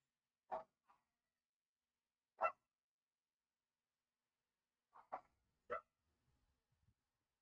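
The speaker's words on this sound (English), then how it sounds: "Dogs went crazy, man." Dogs bark in short, sharp isolated bursts, about five scattered barks over several seconds with quiet gaps between, sounding somewhat distant and faint.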